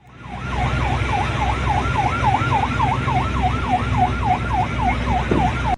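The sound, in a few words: ship siren blaring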